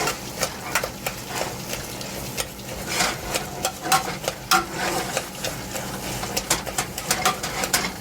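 Eggplant being stirred and mashed in a pot with the bottom of a spatula for kashk bademjan, giving soft repeated scraping and squelching strokes with faint sizzling underneath, close and steady throughout.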